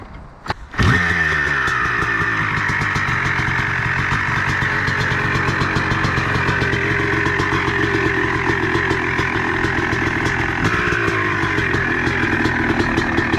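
A 2021 Honda CRF motorcycle engine starts and revs, then holds a loud, steady buzzing idle with slight fluctuations, close by.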